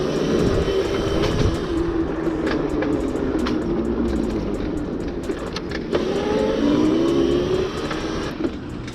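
Electric Razor MX650 mini enduro dirt bike ridden off-road, a steady motor whine gliding up and down over constant wind and terrain rumble with scattered clicks and knocks, no voices.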